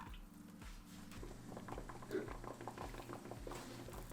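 A soft, steady bubbling of water at a rolling boil in a steaming water bath, with faint patters and a low hum underneath, quiet and close.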